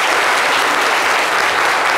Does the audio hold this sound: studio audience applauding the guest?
yes